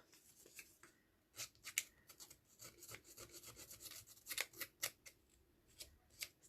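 The edge of a pair of scissors scraped along paper edges to rough them up for a craft embellishment, quiet rhythmic rasping strokes repeated at close range, with no talking.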